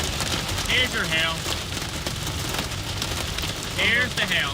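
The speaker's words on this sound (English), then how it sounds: "Here's your hail." Hail falls during a storm in Kansas, Oklahoma or Texas, a dense, loud, continuous patter of stones striking surfaces up close, with brief voices over it.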